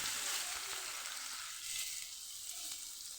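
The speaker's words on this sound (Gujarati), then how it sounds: "અહીંયા આપણે બે ડુંગળી સુધારેલી અહીંયા ઉમેરી દઈશું" Chopped onions fry in hot oil with a pinch of asafoetida for paneer bhurji, making a faint, steady sizzle that continues evenly without pause.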